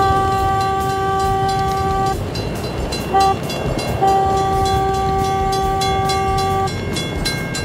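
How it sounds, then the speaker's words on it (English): Miniature train horn sounds a long blast, a short toot, then another long blast over the steady rumble and clatter of a small railway train passing close by. "Sound all horns or whistles at all W signs."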